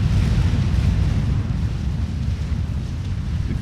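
Artillery shells explode in the strategy game Forged Alliance Forever during a battle against massed Tech 1 units: a continuous loud, low rumble of overlapping blasts.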